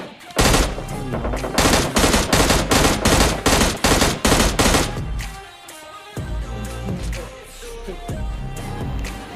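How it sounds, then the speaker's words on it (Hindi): Rapid automatic gunfire from PUBG Mobile Lite battle-royale gameplay hammers out in a loud, fast string of evenly spaced shots, then gives way to quieter in-game sounds and scattered lighter reports. "मेरे को अपार्टमेंट साइड से फायर आती है"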